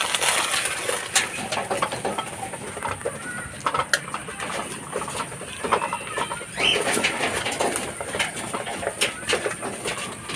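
Pigeons kept as racing birds peck at feed in their loft, a dense patter of small ticks and scattered pecks over a steady hum, with occasional soft coos and rustling close by.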